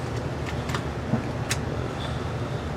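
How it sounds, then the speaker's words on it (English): Restored Borg Warner T96 transmission with no oil, shifting between second and third, a few light mechanical clicks and clunks over a steady broadband hum. "There's the shifting"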